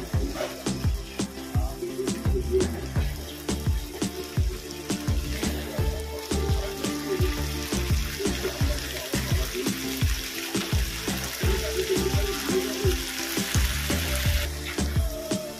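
Pomfret fish frying in spiced masala in a pan, a steady dense sizzle that runs the whole time under loud music with a strong beat, with no talk.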